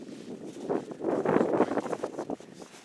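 Steady gusting wind rumbling across the microphone on a frozen lake during ice fishing, swelling in the middle and easing off, with no talking.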